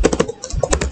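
Quick, close typing on a computer keyboard while entering a GitHub repository address, a brief burst of rapid, uneven key clicks with no voices.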